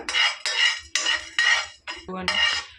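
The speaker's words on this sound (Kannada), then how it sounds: "ಇವೀಗ ಸ್ವಲ್ಪ ಘಮ ಬರೋ ತನಕ ಹುರ್ಕೋಬೇಕು ನೋಡಿ" Dry-roasting spices with chana dal in a pan for rasam, heard as a run of loud, close metallic scraping strokes of a utensil against the pan, five or six rhythmic bursts with brief pauses between, no voices.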